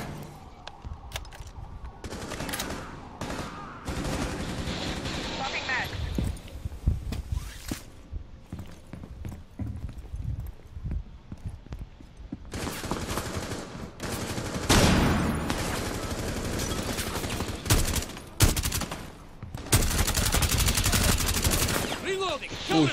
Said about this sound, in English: Who's shooting? Enemy shooting.